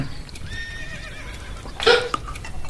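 A horse whinnies once in a period outdoor setting, a wavering mid-loud neigh rising into a brighter burst near the end over a low background murmur.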